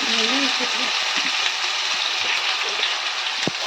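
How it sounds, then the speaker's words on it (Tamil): Small shallots sizzling in sesame oil in a pan for egg kuzhambu, a loud continuous frying hiss with a few faint clinks. "சின்ன வெங்காயத்தை இப்போ நம்ம சேர்த்துட்டோம். இப்போ நல்லா பொன்னரமாக சிவக்க வதக்கிடலாம்."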